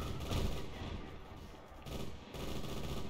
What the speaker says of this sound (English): Oh boy, there's a lot of grenades going this way.